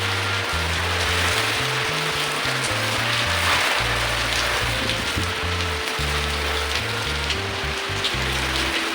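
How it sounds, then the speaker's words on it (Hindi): Heavy rain in a strong storm hisses steadily throughout, with a loud, shifting low rumble underneath. "बहुत तेज़ तूफ़ान था और साथ ही बारिश भी बहुत तेज़ हुई थी"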